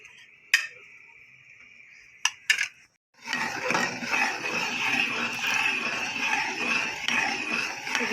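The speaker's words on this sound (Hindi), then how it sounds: "इसको तेज़ी के साथ ऐसे चम्मच चलाते रहना।" A spoon clinks a few times against a pot of mango custard, then settles into continuous fast stirring, with a close scraping swish and occasional sharper metallic taps.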